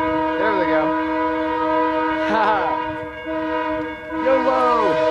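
BNSF freight train in Fort Collins, Colorado, blowing its multi-chime air horn in three long blasts over a steady rumble of passing railcars, loud and fairly close.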